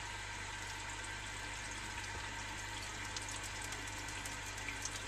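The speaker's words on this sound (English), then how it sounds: "And you can see water entering the jug." Water from the refill tube of a 1952 Eljer Sylenta toilet tank runs steadily into a jug, a continuous faint hiss and trickle over a low background hum, with no talking.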